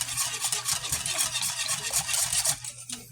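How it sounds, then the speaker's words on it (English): Butter and heavy cream being beaten with a whisk in a pan on the stove, a steady scraping, swishing churn with a faint sizzle beneath, continuous and close. "Now I want to bring out the whisk, and we're just going to start beating this butter together with the heavy cream."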